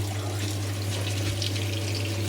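Water runs through a channel on a hydroponic backyard farm, a continuous gentle splashing trickle heard alone at moderate level under a low steady hum.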